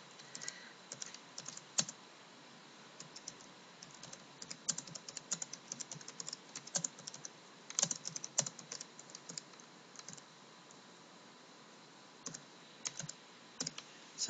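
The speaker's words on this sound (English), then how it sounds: "if I type in my title and press enter" Rapid keystrokes on a computer keyboard as a chart title is typed, in uneven bursts of sharp clicks with short pauses, close and fairly quiet, with no talking.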